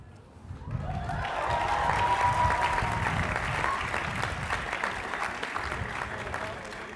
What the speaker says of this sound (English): Get to applaud again.